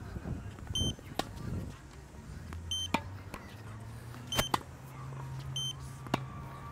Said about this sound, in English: when the ball is in, you have one beep